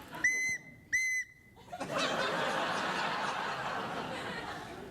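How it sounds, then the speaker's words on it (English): Two short, sharp whistle blasts sound close and loud on a late-night TV talk show, followed by a burst of laughter and chatter from a small group. "Craig, can you give me a little whistle every now and then to make sure I don't doze off"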